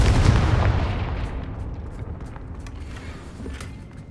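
A Confringo blasting spell goes off in a Harry Potter video game, giving one loud, deep blast that rumbles and fades over a few seconds.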